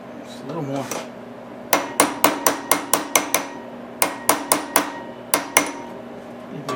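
Sharp metallic hammer blows tapping a replacement bandsaw guide bearing into place, struck in two quick bursts of about seven and four evenly spaced hits, close and loud over faint workshop background.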